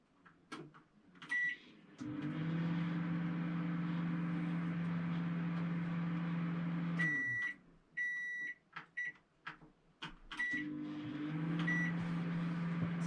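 A microwave oven heats a ready meal, its steady low hum running for several seconds, then stopping with a few short beeps and clicks before it starts humming again.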